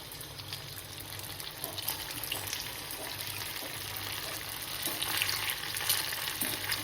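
Chopped vegetables such as carrot and cabbage sizzle and crackle in hot oil in a pan, a steady bright frying hiss throughout, fairly quiet and close, with no talking.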